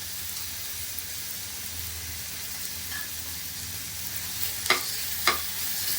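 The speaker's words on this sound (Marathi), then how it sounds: "कांद्याबरोबर थोडं परतून घेते" Crushed ginger and garlic are sautéed with onions for paneer bhurji, producing a soft, steady sizzling hiss with a couple of sharp stirring clicks near the end.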